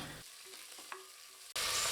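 A steady sizzle of chopped onions sautéing in a pan, with faint stirring clicks, then a louder surge of hissing toward the end.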